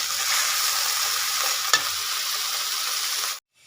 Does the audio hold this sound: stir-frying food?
yes